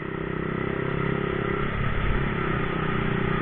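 Honda C70 racing motorcycle being ridden, its engine droning steadily with some clatter throughout, loud and close with no talking.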